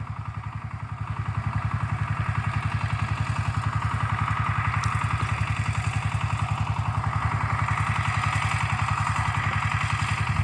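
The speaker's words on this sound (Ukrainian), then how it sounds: "а назад уже мотоблок їде сам" Walk-behind tractor engine running steadily in a vegetable garden during potato hilling, a loud, close, rapid chugging thump that holds at an even rhythm throughout with faint clatter on top.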